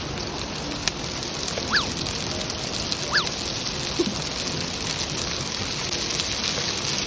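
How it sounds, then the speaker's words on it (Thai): Steady rain falls outdoors during street-style cooking of pad thai with fresh shrimp, a dense, even hiss holding at one level throughout with a few faint chirps above it and no talk. "บรรยากาศตอนนี้ฝนจะตกหน่อยนะครับเสียงธรรมชาติธรรมชาติ"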